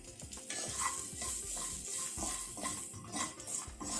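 Onions with curry leaves and a pinch of salt sautéing in a pan over a low flame, a quiet steady sizzle with frequent spatula scrapes and clinks against the metal, close and soft.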